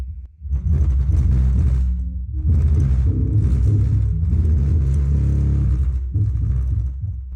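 A 10-inch slim under-seat powered car subwoofer plays loud, deep bass in a car, booming in pulsing bursts with brief dips between them.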